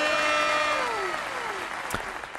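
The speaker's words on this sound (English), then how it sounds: "Round of applause." An audience claps in steady applause that slowly tapers, while a sustained musical tone glides downward underneath and a brief sharp hit lands near the end.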